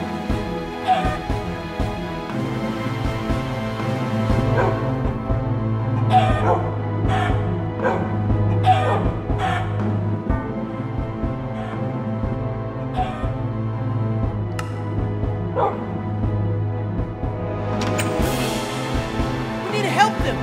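Wolfie, a dog in a video game, gives repeated yips and short barks mixed with whimpers over a steady droning game soundtrack, moderately close, with a voice talking intermittently.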